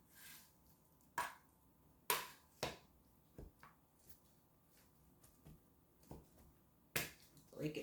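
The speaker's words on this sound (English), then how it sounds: "I'll just turn my board around and chop it in some cubes." Knife chopping cooked chicken into cubes on a cutting board for a summer chicken salad, with a handful of sharp, irregular cuts spaced apart at moderate loudness in a quiet kitchen.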